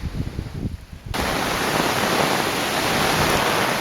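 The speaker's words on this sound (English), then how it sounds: "now it just started pouring and tons of wind, and Matt is out there spearfishing" A sudden, loud roar of pouring rain and gusting wind sweeps in as a storm hits after a quieter second, then holds as a dense, steady wash.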